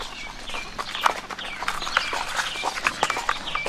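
Horse hooves clop at a steady walking pace on a ride through the Latin American countryside, with birds calling over the hoofbeats and no one speaking.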